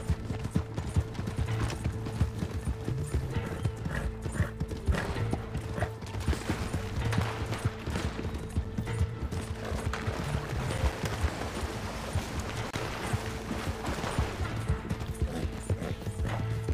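Rhythmic hoofbeats clip-clop steadily throughout as a horse is mounted in Red Dead Online, mixed with creaking, clanking mechanical noises and a low hum, like a horse moving at a walk.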